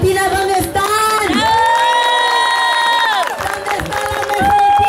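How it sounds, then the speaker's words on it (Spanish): A crowd at a May Day immigrant rights march cheers loudly, with sustained shouts and whoops over a dense roar of voices and some scattered claps. "Quiero que le den un fuerte aplauso a todos los de la Mesa Latina."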